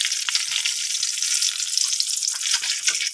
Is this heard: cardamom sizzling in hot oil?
yes